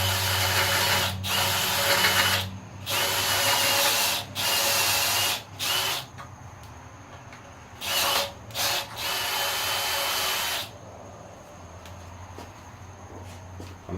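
A power drill bores holes during work on a 1951 Chevy, several loud bursts of whining drilling of varying length separated by short pauses, with a low engine-like hum underneath.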